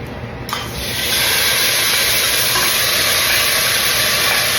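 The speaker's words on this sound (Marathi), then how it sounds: "त्याला मी मॅश करून घेतले. आता तेलमध्ये टाकणार आहे." Mashed garlic and onion, boiled earlier with kidney beans for rajma, drop into hot oil and burst into a loud, sudden sizzle that swells within a second and then holds as a steady, close hiss.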